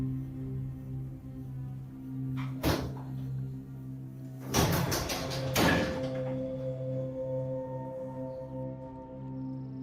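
A door in a home, caught on a security camera, bangs once, then rattles and thuds in a burst a few seconds later, over a steady electrical hum.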